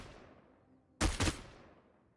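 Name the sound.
automatic weapon fire in Paladins video game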